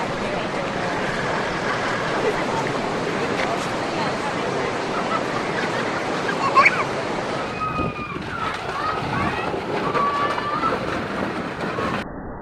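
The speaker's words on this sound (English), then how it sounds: "Powerful wind creates a bit of a sandstorm on this Barcelona beach." Powerful storm wind and surf on a Barcelona beach, a constant loud roaring rush of wind and breaking waves with blowing sand, buffeting the microphone, while faint distant voices briefly call out.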